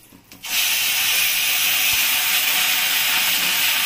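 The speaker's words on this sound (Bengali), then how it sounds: "এখন আমি পেঁয়াজ বাটাটা দিব প্রথমে" Onion paste hits hot oil in a pan for egg rezala and bursts into a loud, steady broadband sizzle that holds evenly without letting up, with no voices over it.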